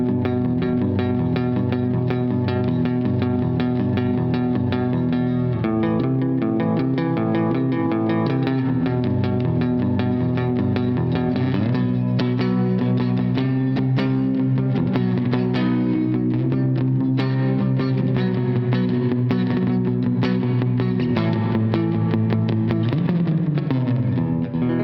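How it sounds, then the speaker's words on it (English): Donner Verb Square budget reverb pedal on an electric guitar, chords and melodic lines washed in lush reverb, playing continuously and loud with no talking. "Pretty good reverb."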